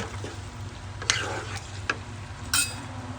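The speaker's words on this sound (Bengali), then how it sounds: "যে সসটা বানিয়ে রেখেছিলাম সেই সসটা দিয়ে দেব।" Prepared sauce goes into chilli fish frying in a pan, bringing a steady sizzle with a few sharp stirring scrapes and clinks of a utensil against the pan, close up.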